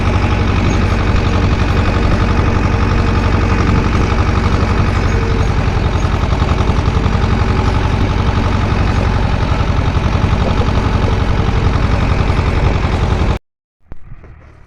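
A small green T-25 tractor engine runs steadily and loud at close range with a dense, rapid chugging for about thirteen seconds during spring sowing, carrying grain and a roller, then cuts off abruptly into near silence.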